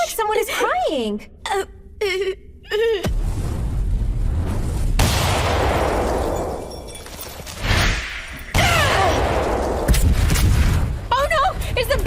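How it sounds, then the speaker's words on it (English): A building explodes in an anime, opening with voiced cries before heavy booming blasts and a long roaring rumble take over, loud and close, with further explosive bursts and brief voices near the end. "Oh no! Is the building exploding?"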